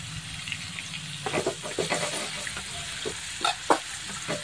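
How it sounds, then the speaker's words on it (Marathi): Cumin seeds dropped into hot oil already frying garlic, giving a soft steady sizzle with a few sharper crackling pops and spatters near the end, close but fairly quiet, no talk. "जिरं सुद्धा छान मस्त तळून घ्यायचं तेलामध्ये"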